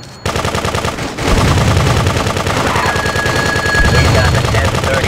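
Video game machine gun fire from GTA 2, a dense, continuous rattle of rapid shots holding steady for about four seconds after a brief pause, loud and close with a faint voice underneath.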